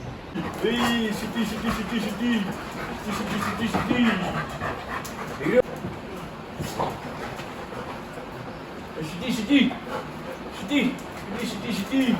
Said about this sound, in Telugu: సో ఇవే అన్నమాట మా డాగ్స్, 2 డాగ్స్ ఉంటాయి.